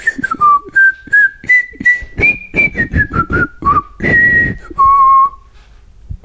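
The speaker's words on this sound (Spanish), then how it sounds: "había en Cartoon Network un personaje que chiflaba un estribillo" A clear whistled melody of a cartoon refrain, close and loud, moving through short phrases of sustained and bouncing notes with brief pauses between them.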